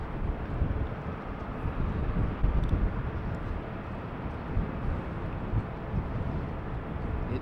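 A Jet2 airliner taxis at Schiphol Airport in fog, a steady broad engine rumble heard from a distance, with light wind noise on the microphone.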